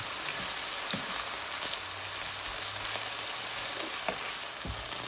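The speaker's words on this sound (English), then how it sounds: "At saute the onions" Onions sautéing in a pan for a pork chop dish, a dense, even sizzle with soft bubbling and a few stirring clicks, close and steady with no talk.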